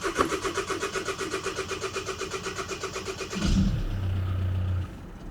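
A diesel car engine cranks with a rapid rhythmic churning of the starter, catches with a deeper surge, then settles into a steady low idle, close and clear with no talk.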